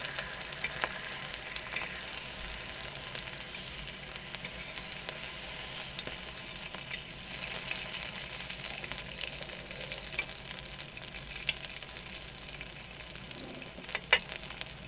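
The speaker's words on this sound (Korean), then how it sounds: "마늘이랑 이렇게 양파를 좀 고기 익힐 때 같이 고기 기름에 해서 익혔어요" Pork belly frying with garlic and onion in rendered pork fat, a steady close crackling sizzle with scattered sharp pops running throughout, no voices over it.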